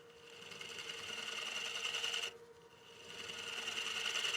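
A wood lathe spins a partially seasoned bowl with a steady high whine and faint scraping from light tool passes, briefly dipping midway before resuming; fairly quiet, no voices.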